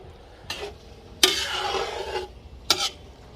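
Several scraping strokes of a utensil gently stirring fish roe in a pot, one longer sweep between two brief ones, close and fairly soft, with no voices.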